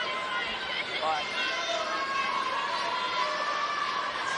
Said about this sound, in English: Crowd's been into it, looking for something to cheer about.